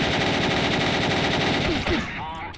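Rapid automatic gunfire rattles in a Driv3r shootout, a dense, loud burst of repeated shots filling the stretch, with a short tonal game sound near the end.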